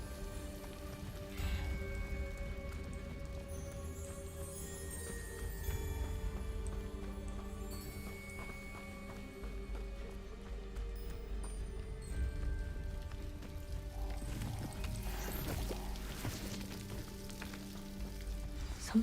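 A waterfall in the video game Hogwarts Legacy rushes with a steady, broadband roar, with game music tones layered over it throughout.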